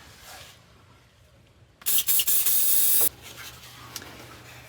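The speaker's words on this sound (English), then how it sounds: "Put a little bit of that cheater fluid in there, some of that silicone spray" Silicone spray hisses from an aerosol can onto a car exhaust pipe being fitted during a home repair, in a few close, loud bursts lasting just over a second amid quiet surroundings.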